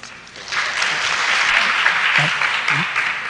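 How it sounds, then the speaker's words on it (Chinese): Audience applause at a PHP developer conference talk in Taiwan, a dense wash of clapping that swells quickly and holds steady for a few seconds, with faint voices underneath. "请大家掌声鼓励"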